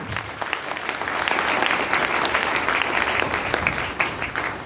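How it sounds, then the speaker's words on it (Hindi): Loud applause at a business gathering, a crowd clapping steadily and densely throughout, holding an even level from start to finish with no speech over it. "कम से कम उनके लिए एक बार जोरदार ताली"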